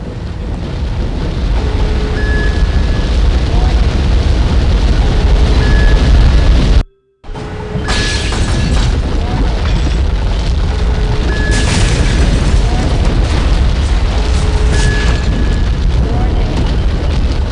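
Explosions tear through a facility in the video game No One Lives Forever, a dense, continuous roaring rumble of booms with a brief cut of silence midway before the blasts resume at full loudness.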